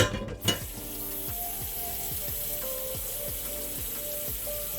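Water pours steadily from a kitchen tap into a container, a continuous rushing hiss with faint clinks and scrapes of utensils nearby, no talking.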